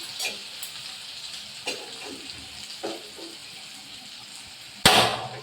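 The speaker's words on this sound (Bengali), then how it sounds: "পেঁয়াজটা ভাজা হচ্ছে।" Chopped onion fries in a pan for mutton biryani, a soft continuous sizzle broken by scattered stirring clatters and a sharp loud scrape or clank near the end.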